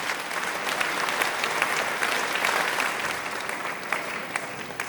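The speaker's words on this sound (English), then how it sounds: "I think we should all give a round of applause" An audience at an interview-style talk event applauds, dense sustained clapping that holds steady throughout before fading slightly at the end.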